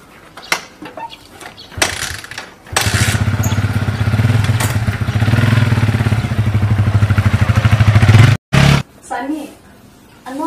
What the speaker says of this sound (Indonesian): Oh, hati-hati sama motor dia.